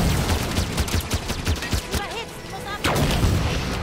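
Rapid gunfire bursts from the video game Halo 5 crack loud and close in dense, repeated volleys, stop briefly in the middle, then resume, with faint talk underneath.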